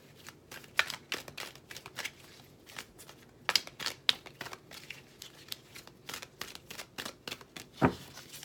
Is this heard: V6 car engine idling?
no